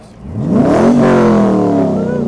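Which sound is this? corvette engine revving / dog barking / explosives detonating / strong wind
corvette engine revving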